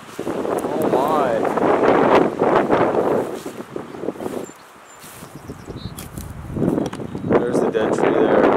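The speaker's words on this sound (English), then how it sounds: "It's windy." Gusty wind buffets the microphone in strong bursts near a lakeshore in the Canadian wilderness, dropping briefly in the middle before picking up again, with some rustling beneath.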